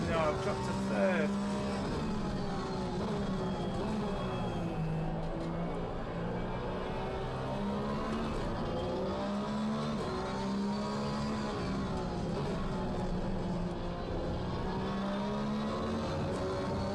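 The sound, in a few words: Porsche race car engine in video game Gran Turismo 7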